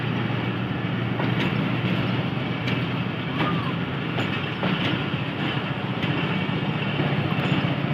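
A passenger train pulls out of Bhakkar railway station after a long halt, its steady rumble of rail cars and wheels running loud and continuous throughout, with faint clicks over the rolling noise.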